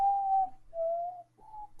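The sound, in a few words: whistling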